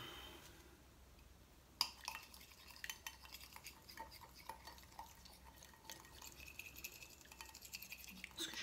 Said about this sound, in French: On va fouetter à la main.